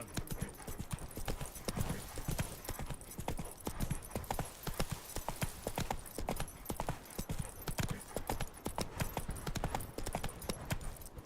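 Roach the horse gallops steadily in a video game, a fast, continuous drumming of hoofbeats across dirt that stays close and loud from start to finish.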